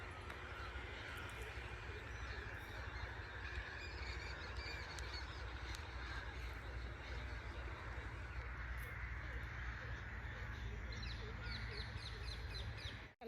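Crows cawing around a village, mixed with other birdsong over a steady broadband outdoor hum, calls repeating throughout at moderate distance with no clear talk.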